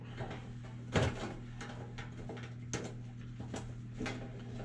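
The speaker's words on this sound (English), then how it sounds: "Push them together, tighten up the clamp." A welding butt clamp is tightened to pull two metal pieces together, giving a few sharp metallic clicks and a louder knock over a faint steady hum, close and fairly quiet.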